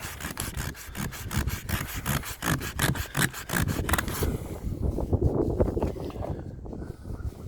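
Sandpaper rubs by hand over the wood of a boat under construction. Quick, even back-and-forth strokes run for about four seconds, then give way to slower, softer scraping with light wind noise.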